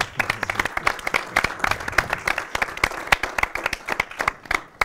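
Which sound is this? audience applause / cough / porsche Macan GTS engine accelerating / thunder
audience applause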